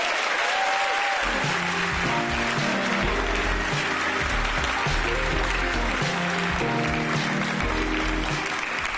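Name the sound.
audience applause at a press briefing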